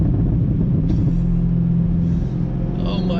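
A 2019 Chevrolet Corvette ZR1 gives a deep exhaust rumble, with a few sharp pops breaking through near the end and voices talking over it.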